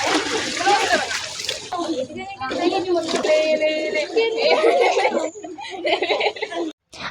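Clothes being washed by hand in a backwater in Kerala, with irregular water splashes and sloshing close by, voices of children talking and laughing over it throughout.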